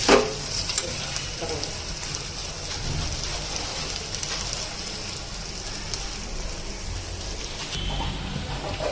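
Potatoes fry in a pan for a batata poha dish, a steady dense sizzle like rain with a sharp clatter at the start and occasional stirring scrapes, with faint voices in the background.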